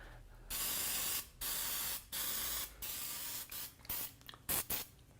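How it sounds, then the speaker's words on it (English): Olive oil is sprayed onto food on a baking sheet in a series of close hissing bursts, about seven of them, starting long and getting shorter and quicker toward the end. "I'm gonna spray these with some olive oil."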